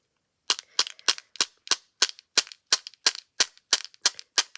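A Posca paint pen splats paint with a dozen sharp, snappy taps at an even rhythm, each a loud close crack followed by silence.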